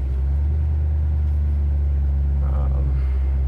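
A fuel-injected 1972 Chevy Nova engine idles steadily, a close, deep rumble holding even throughout with no revving.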